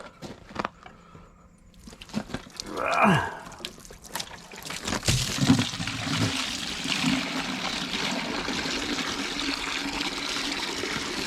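Laundry being rinsed by hand in a tub of water at an off-grid site, with sloshing, trickling and pouring water that grows steadier and continuous after a brief splash; a faint voice appears early on.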